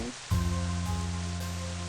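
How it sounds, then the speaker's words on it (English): Heavy downpour of rain in a dramatized scene, a steady dense hiss with a low rumbling bed that swells in loudness after a brief quieter start, continuous throughout with no voices. "Caine's footsteps are hard to make out in this downpour, but it's him, alright."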